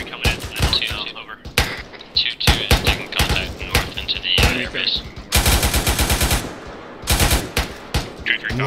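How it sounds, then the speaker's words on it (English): AK rifle fire in a military video game: sharp bursts and single shots in an irregular rhythm, with one long sustained automatic burst near the end. Loud and close, with people talking in between. "I've got AK fire to the northeast, Ken."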